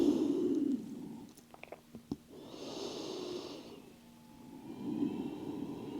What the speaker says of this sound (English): Breathing in and out through the nose and sending your energy down.